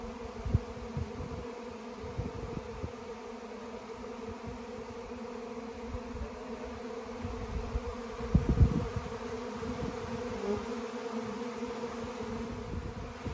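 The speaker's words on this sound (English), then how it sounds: "Well, these bees seems to be attracted to the box." A honey bee colony buzzes steadily around a hive box used for catching swarms, a dense continuous hum of many wings close by, with occasional louder bees passing near.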